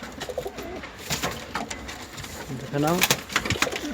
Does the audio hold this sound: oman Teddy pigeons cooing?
yes